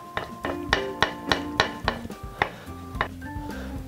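A knife chops peeled prawns on a cutting board in rapid, steady strokes, with about a dozen sharp knocks landing close and loud, and no talking.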